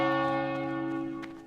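A single bell struck in World of Warcraft, a deep church-like toll with rich ringing overtones that decays slowly, clear and alone.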